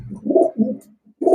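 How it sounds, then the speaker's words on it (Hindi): Paddy pigeons, a male and a female kept as a pair, coo at close range in a few short, throaty bursts with brief pauses between them, with no talking. "लेकिन ये ओरिजिनल चौधरी सखी मोहम्मद भट्टी साहब वाले पैडी कबूतर।"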